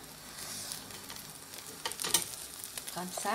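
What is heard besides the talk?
duckling leg skewers grilling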